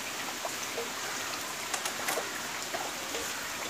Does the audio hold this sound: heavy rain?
yes